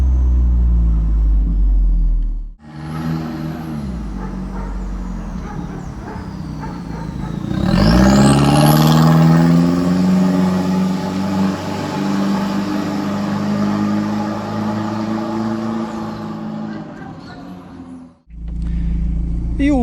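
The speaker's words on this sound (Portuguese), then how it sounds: "o som da turbina eu acho que é uma das coisas mais legais" A turbocharged Audi engine mounted mid-ship in a Karmann-Ghia revs up hard with a rising whine and turbo whistle, holding a loud sustained roar before cutting off abruptly.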